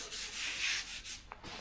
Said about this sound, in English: So I'm going to run just a bit of normal Bondo along here also, then sand it off.